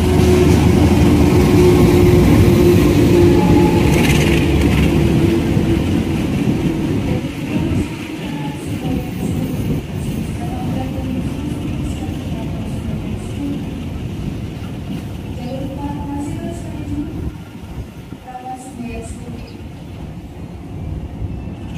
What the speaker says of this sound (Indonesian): Ini kebetulan kereta api Bengawan akan masuk,